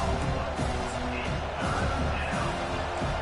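Home crowd at a college football game cheering as the defense tries to get off the field on third down, a loud, steady roar blended with an announcer's voice.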